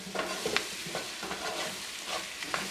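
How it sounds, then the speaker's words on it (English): Curry shrimp and potatoes stirred in a pot, a spoon scraping and clacking in repeated strokes over a soft, steady sizzle, fairly quiet and close. "Give that a nice mix there."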